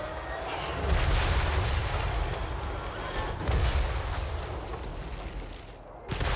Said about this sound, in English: artillery continue to fire